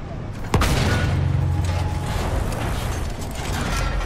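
A tank rolling through a battle in the video game Battlefield 1, a steady loud mechanical rumble and grinding creak of tracks with a sharp bang near the start, continuous and close.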